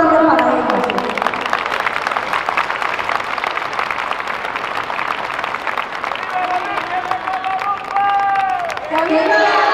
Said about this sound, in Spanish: Un aplauso grande para